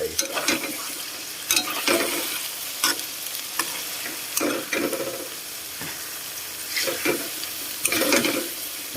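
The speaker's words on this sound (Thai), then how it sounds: "ผัดมะระสุกแล้วเราก็ใส่ไข่ลงไป" Bitter melon and egg stir-fry in a hot pan with a constant crackling sizzle, broken by repeated scraping strokes of a spatula at an irregular rhythm, close and fairly loud.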